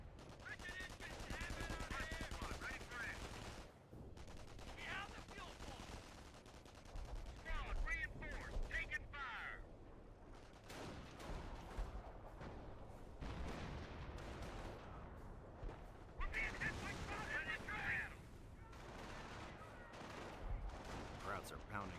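Machine gun bursts and artillery fire from a World War II strategy video game, dense repeated gunfire and booming impacts throughout, with a commentator's voice occasionally heard over the battle.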